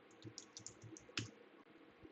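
Quiet, close clicking of keys on a computer keyboard, a short irregular burst of keystrokes with one sharper tap near the middle and no talk.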